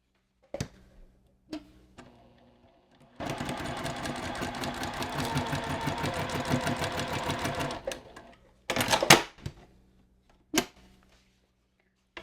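A sewing machine stitches quilt sashing and a cornerstone, running in one steady rapid burst of about five seconds, then a short second run, with clicks and handling noises around it, close and without talk.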